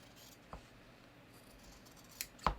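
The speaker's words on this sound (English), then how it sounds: "I'm just going to use my big sharp scissors. And I'm just going to cut along" Big sharp scissors cut through denim jeans in a quiet room, giving a few brief, soft snips spaced apart, with the last two crisp cuts close together near the end.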